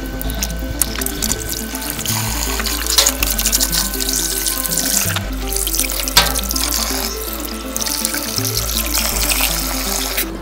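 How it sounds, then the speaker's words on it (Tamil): Tap water runs steadily through a washing machine drain pipe being flushed clean at home, a continuous pouring and splashing rush with a low hum underneath. No one speaks. "இந்த பக்கம் ஊற்றிட்டு குழாயில் வச்சு இப்போ ஓப்பன் பண்ணி விடலாம்."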